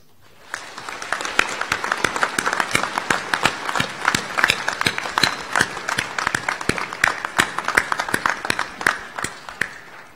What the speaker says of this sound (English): I now ask members of the audience to applaud your accomplishments.